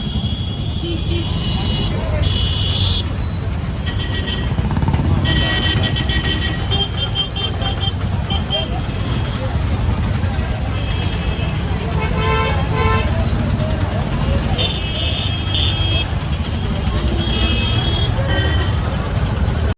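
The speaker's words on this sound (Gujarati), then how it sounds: "મિત્રો, અત્યારથી જ ખૂબ જ ટ્રાફિક છે." Dense road traffic in Junagadh during the Mahashivratri fair near Bhavnath, with a continuous rumble of engines, repeated short car horn toots from several vehicles and voices talking in the background.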